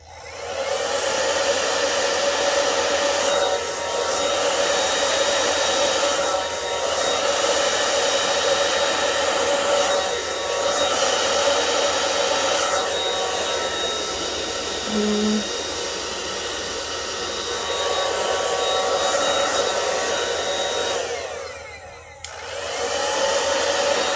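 A hair dryer on its cool, low setting blows across a poured acrylic paint surface, a loud, steady whooshing hiss that runs nearly unbroken, dips briefly near the end, then resumes.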